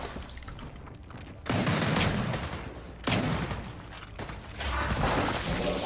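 Gunfire aimed at a target in Gears of War 4, coming in three loud sustained bursts of rattling fire with quieter gaps between them and no speech.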